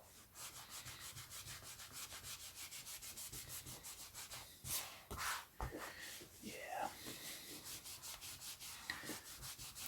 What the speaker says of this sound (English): It feels like it's going to benefit from a good rubbing down.